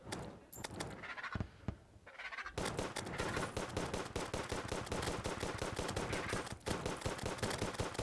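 Rapid gunfire in the video game Terraria, a dense, continuous stream of loud shots with brief breaks, close and alone without talk.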